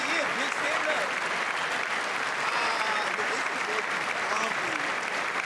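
Sustained applause fills a large chamber at the State of the Union address, a dense, even clapping from a big crowd that runs unbroken throughout, with voices faintly mixed in.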